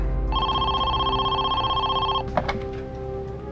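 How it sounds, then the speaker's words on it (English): A telephone rings once with a sustained electronic tone lasting about two seconds, followed by a couple of clunks as the receiver is handled, heard over a low background hum. "the phone rang again"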